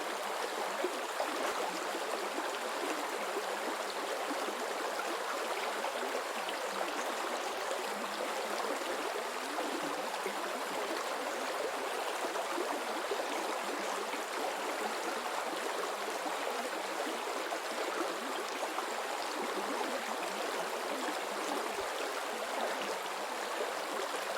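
A flowing stream of water runs continuously, a steady soft rushing and babbling that stays even and unbroken, with no voices.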